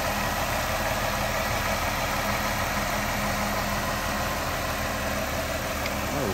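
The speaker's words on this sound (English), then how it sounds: "As you can tell, very smooth running engine" A 2006 Ford Escape XLT AWD with a 3.0 liter V6 idles steadily close by, an even continuous hum and drone with no talk over it.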